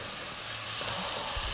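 Onions frying in a pot, a dense continuous hiss of oil with faint stirring knocks underneath, steady and close with no voices.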